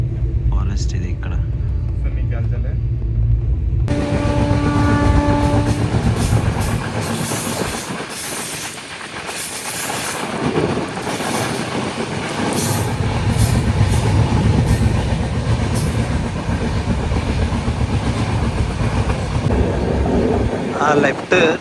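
The Gatiman Express 12050, India's fastest train, runs from Hazrat Nizamuddin to Jhansi with a loud, continuous rumble and rail clatter that holds steady throughout, heard from on board.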